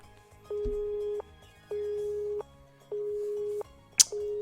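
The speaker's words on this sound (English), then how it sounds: "the ruthless electronic buzz as she dropped the call echoed" Electronic busy tone after a dropped cell phone call: four steady beeps, each about 0.7 s long, separated by equal gaps. A brief sharp click interrupts near the end, and no one speaks.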